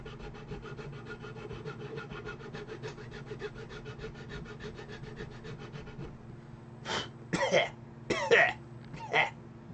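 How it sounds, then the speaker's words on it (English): Hand file working the surfaces of two model kit pieces to even them down, heard as a steady rasping scrape for several seconds, followed by a handful of louder, separate rubbing strokes close by. "I'm going to use the file on this one, just make short work of it."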